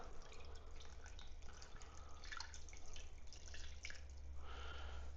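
Beef broth trickles and drips into a crockpot, a faint close liquid patter over a low steady hum.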